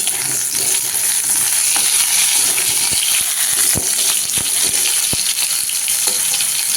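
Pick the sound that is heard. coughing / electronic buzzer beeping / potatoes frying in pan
potatoes frying in pan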